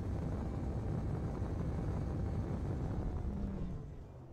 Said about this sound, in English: And there's the braking thrust.